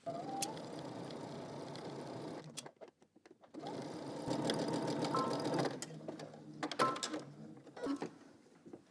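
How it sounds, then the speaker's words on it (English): A sewing machine stitches a 5/8-inch seam in fabric for a sewn top. Close, steady whirring runs of stitching stop briefly near the three-second mark, then resume and end with a few short bursts and clicks. "now we're going to stitch this together using 5/8 of an inch seam allowance"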